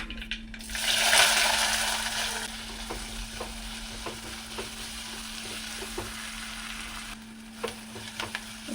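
Chopped onions fry in hot oil in a clay pot after mustard seeds, with a strong sizzle at first that settles into a softer hiss, punctuated by scattered small pops and clicks.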